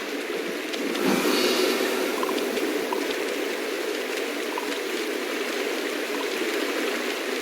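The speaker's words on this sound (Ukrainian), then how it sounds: "Вау! Струмочок." A small stream flows in the Hogwarts Legacy video game, a steady, close rush of burbling water that holds an even level throughout with no talking.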